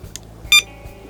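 A Prologic SMX bite alarm gives a short, sharp electronic beep close by, with a fainter blip just before it, signalling a run.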